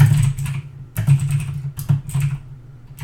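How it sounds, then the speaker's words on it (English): Loud typing on a computer keyboard, clattering bursts of rapid keystrokes close up with short pauses between, under a low steady hum. "Why are you typing so vigorously? Oh, it's my keyboard. It always sounds that loud."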